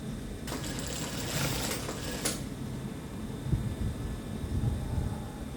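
A sewing machine stitches stretch fabric in quick mechanical bursts, a faint rapid whirring hum that runs early in the clip and then gives way to quieter handling noise.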